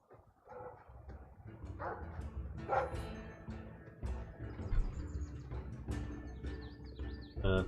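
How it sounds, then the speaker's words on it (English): A pet dog barks repeatedly at close range in an indoor setting, irregular yaps and woofs over background game music and birdlike chirps, with no talk. "That's my dog."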